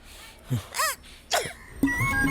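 Someone gives a few rough, throaty coughs in quick succession, close and fairly loud, with a strained, raspy catch between bursts.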